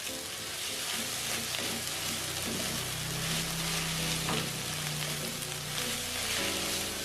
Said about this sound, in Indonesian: pastikan menggunakan api yang besar selagi menggabungkan nasi dengan bumbu nasi gorengnya